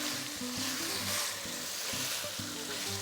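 Meat browns in a pot for Brazilian feijoada, a steady close sizzle and frying hiss with occasional stirring knocks, no talking.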